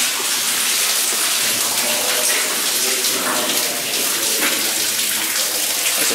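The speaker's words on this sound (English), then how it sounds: "I hear a lot of rushing water." Loud, continuous gushing water in a gold mine with an echoing, enclosed sound, like a strong flow pouring nearby in a hollow space.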